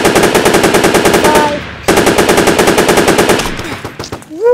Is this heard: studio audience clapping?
no